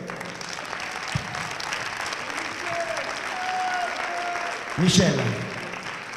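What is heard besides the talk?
audience applause for a dance team coach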